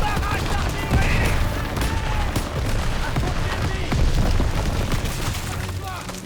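Artillery barrage and gunfire in the World War II shooter Call of Duty: WWII, with dense, continuous booming blasts and rattling shots layered close and far, while voices shout amid the chaos.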